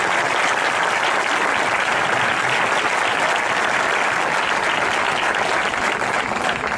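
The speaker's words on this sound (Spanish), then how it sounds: "Fuerte aplauso." Dense, loud applause from an audience at a sports club team presentation continues evenly for several seconds without pause.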